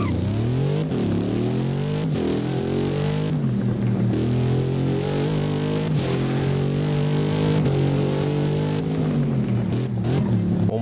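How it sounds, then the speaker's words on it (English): A car accelerating hard in the Driving Empire game, its deep engine note climbing steadily in pitch through the gears with quick shift breaks and downshift drops, loud and continuous with no voices over it. "let's actually go ahead and hear how it sounds when we accelerate the car"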